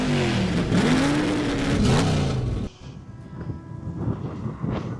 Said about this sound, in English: just about to start a drag race.